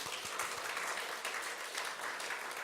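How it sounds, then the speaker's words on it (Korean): A church congregation at a Korean-language Sunday service breaks into brisk, continuous applause offering glory to God, a dense, even patter of many hands close by. "한번 박수 영광 하나님께"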